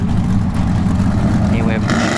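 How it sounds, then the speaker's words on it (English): A Dodge Scat Pack Charger sits in the left lane at a drag strip test-and-tune session, its engine rumbling loud and steady throughout, with a voice talking over it. "we got a Scat Pack Charger left lane."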